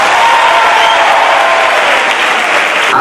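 A packed audience at an Indian public function claps loudly and continuously, producing a thick, even wash of applause that fills the whole stretch and thins slightly at the very end.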